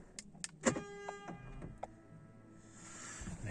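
Electric door mirrors on a Ford Fiesta ST folding in, a faint whirring motor hum after a few sharp clicks and chimes, heard up close in a quiet car.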